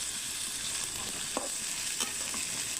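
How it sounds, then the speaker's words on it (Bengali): Green beans with spices stir-fry in a pan with a constant bright sizzle, punctuated by a couple of sharp spatula scrapes and clacks, close and without talk. "একবারে একসাথে দিয়ে আমি মশলাটা দিয়ে একবারে কষিয়ে নিচ্ছি"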